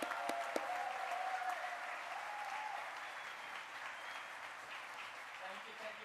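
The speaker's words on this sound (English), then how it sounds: "please, big applause to Joe Pichelmeier and Bernhard Tellenbach" Sustained applause from an audience at an award ceremony for the 2024 European Cybersecurity Challenge, steady dense clapping throughout with a few sharper claps early on, fairly distant in a large hall.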